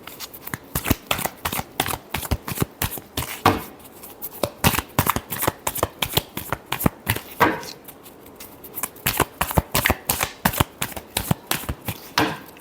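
Tarot cards are shuffled in rapid, crisp riffling bursts that repeat continuously and sit close and loud, with no voices over them.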